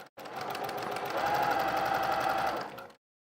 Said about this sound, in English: So I'm sewing the other shoulder now.